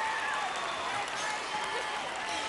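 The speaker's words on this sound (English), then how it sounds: "And the crowd are going berserk." A large crowd at a Gladiators semi-final cheers and applauds in a dense roar that holds steady throughout, with a voice faintly audible underneath.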